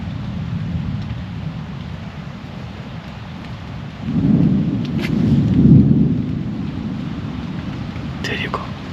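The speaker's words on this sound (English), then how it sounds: "there's a big thunderstorm going on here right now" Thunderstorm in the Algonquin wilderness: a steady hiss of rain with a low thunder rumble swelling midway and fading, moderately loud and continuous, with a faint voice near the end.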